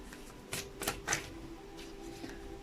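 Tarot cards shuffled by hand in a few quick riffling bursts, close and fairly soft, with short pauses between them.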